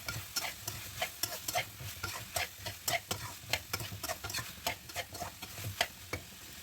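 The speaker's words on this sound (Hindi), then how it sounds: "और जो शिमला मिर्च थी वो डाल देने लगी हूँ। इसको अच्छी तरह मिक्स करने लगी हूँ।" Capsicum being stirred in a kadhai while cooking chicken seviyan noodles: repeated scraping strokes of a spoon against the pan over a faint sizzle, close up and fairly quiet.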